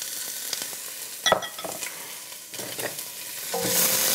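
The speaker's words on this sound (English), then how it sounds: "I'm gonna drop right now these nice onions. Ooh, listen to that sizzle." Onions sizzle softly in hot olive oil in a pan, a faint steady crackle with occasional clinks and stirring sounds nearby.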